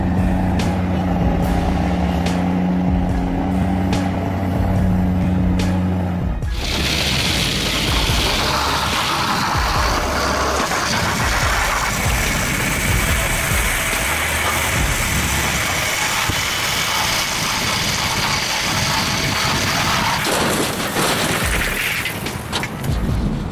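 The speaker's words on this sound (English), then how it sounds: "These giant steel monsters roll through the rugged roads of Durango. These are the logging trucks" Heavy logging trucks work along rugged forest roads in Durango. A quiet outdoor stretch gives way to a loud, sustained diesel rumble with grinding road noise, which eases slightly near the end.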